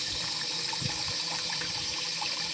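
Water running steadily on a forest farm, most likely through a valve-fed trough near an electric fence, a continuous broadband rush that stays close and fairly loud throughout.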